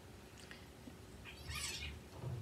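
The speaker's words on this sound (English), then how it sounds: "Cat fight. They're always arguing." Cats quarrelling indoors, a brief yowling squall swelling in the middle of the clip over a low steady background hum, with a faint earlier cry; no voices.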